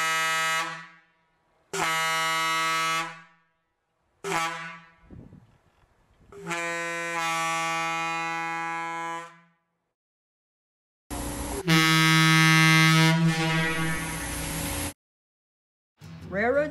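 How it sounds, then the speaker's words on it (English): A series of loud, rich, chorded Leslie A200 air horn blasts from an EMD F7 diesel locomotive, some short and some long, separated by silences, with one extended sustained blast near the end. "A large number of units had a Leslie A200 air horn."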